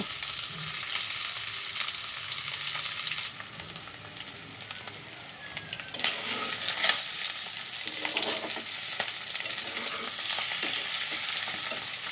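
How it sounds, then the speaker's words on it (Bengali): Eggs frying in oil in a pan, a steady close sizzle with crackling spatters and occasional stirring scrapes throughout, no voices. "এখন আমি ডিমগুলো একটু তেলে ভেজে নিব"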